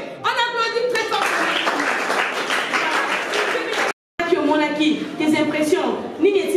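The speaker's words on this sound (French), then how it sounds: "On applaudit très fort." An audience applauds loudly during a guided visit, with bursts of clapping mixed with voices and some chuckling, broken by a brief silent gap before more talk and clapping resume.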